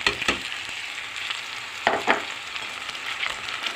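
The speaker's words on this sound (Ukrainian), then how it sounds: "Тепер ставимо сюди помідори наші." Tomatoes dropped into a pan of fried onions for shakshuka, a steady close sizzle with a few louder spits and stirring scrapes, no voice.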